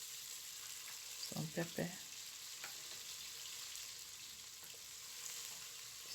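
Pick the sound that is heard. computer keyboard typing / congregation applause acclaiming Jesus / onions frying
onions frying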